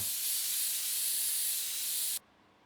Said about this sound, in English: The compressed air is by far the loudest sound in this whole game